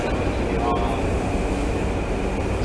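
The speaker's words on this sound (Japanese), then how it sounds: "ドア閉まります。閉まるドアにご注意ください。" Simulated JR E235 commuter train on the Yamanote Line in the BVE5 train simulator, a steady rumbling cabin drone with a faint high tone as the doors close, under a recorded announcement voice.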